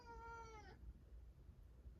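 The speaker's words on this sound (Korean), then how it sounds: "야옹야옹 하지 말고" Pet cat Ben gives one clear, drawn-out meow that cuts off abruptly, followed by quiet room noise.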